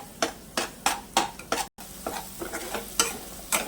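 Sliced onion frying with whole masoor lentils in a pan, a steady sizzle cut by rhythmic spatula scrapes and stirs about every third of a second, close and fairly loud, with no talk.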